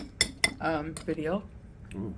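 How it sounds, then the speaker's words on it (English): A spoon clinks against a cottage cheese bowl, two sharp metallic tings near the start and another faint one later, with a voice speaking briefly in between. "that is my cottage cheese bowl. If you can hear tinging in the background."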